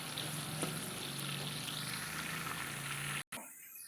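Onions fry in oil for a mutton curry, a low, even, quiet sizzle that holds steady and then cuts off abruptly near the end, with no talk.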